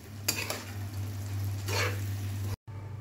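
A fish-head and cabbage curry is stirred in a pan. A low steady hum runs underneath, with two bursts of scraping and clattering from the utensil, followed by a brief cut to near silence.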